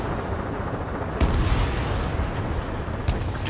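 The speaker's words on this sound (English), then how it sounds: "Gunfire and the roar of jets echoing through the streets." Gunfire and explosive bursts in the jet combat game Ace Combat 7, a dense, loud, continuous rumble with heavier booms punching through around the middle and near the end.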